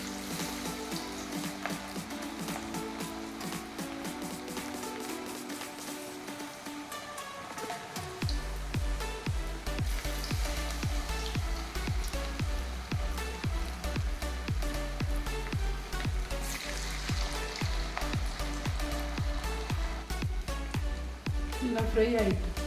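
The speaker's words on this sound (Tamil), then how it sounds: "நல்லா ஃப்ரை ஆகிட்டு பாருங்கள்." Veg manchurian pieces deep-frying in hot oil, a steady crackling sizzle that runs throughout and grows louder and denser partway through, with a voice talking over it.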